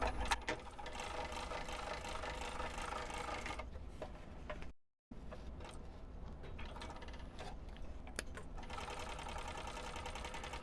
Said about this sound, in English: I'm going to top stitch along the edge on my bottom lining piece